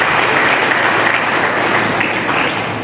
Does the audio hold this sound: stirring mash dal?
no